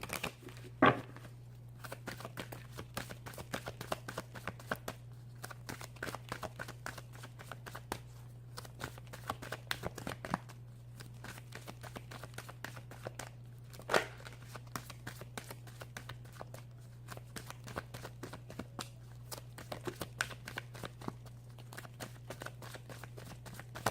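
Oracle cards are shuffled close up in repeated soft riffling bursts and light flicks over a steady low hum, quiet and continuous.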